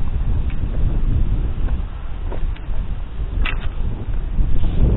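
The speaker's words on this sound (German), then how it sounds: "Windet ziemlich stark." Strong wind gusts outdoors, a continuous low rumbling buffet on the microphone that swells and eases over a few seconds, with no talk.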